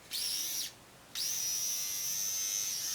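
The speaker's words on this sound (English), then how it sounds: "It's a little shaver, it's got batteries in it." Small battery-powered Flawless facial shaver buzzing up close, a short high-pitched whine that cuts off briefly, then switches back on and runs steadily.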